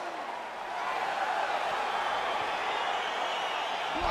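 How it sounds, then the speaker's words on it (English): Steady, dense crowd roar and cheering from a virtual arena crowd in EA Sports UFC 4 as an MMA bout begins, a continuous wash of noise that swells slightly after the first half-second and holds loud throughout. "crowd getting excited as this fight gets underway"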